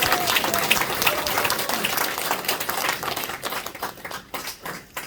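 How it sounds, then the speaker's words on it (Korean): A workshop audience applauding steadily, dense clapping that thins out toward the end with some scattered claps. "박수."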